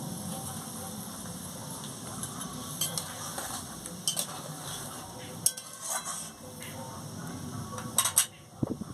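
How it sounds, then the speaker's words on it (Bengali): Lightly fried prawns go into a simmering malai curry in a pan, with steady bubbling and sizzle plus scattered clinks and scrapes of a spoon against the pan as the mixture is stirred. "চিংড়া মাছগুলোকে হালকা করে ভেজে রেখেছিলাম দিয়ে দিচ্ছি, দিয়ে ভালো করে ফুটিয়ে নিচ্ছি।"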